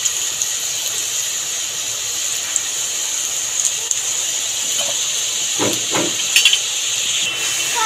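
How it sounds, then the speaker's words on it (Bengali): A whole dried red chilli and whole cumin seeds hit hot oil for a tempering, making a steady close hiss with a few sharper crackles and pops toward the end. No one speaks. "গরম তেলের মধ্যে ফোড়ন দিয়ে দেবো গোটা একটা শুকনো লঙ্কা আর গোটা জিরে"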